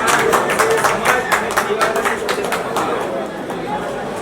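A dense burst of audience clapping and crowd chatter at a Gujarati film premiere award ceremony, loud and close at first, then easing into a steady murmur.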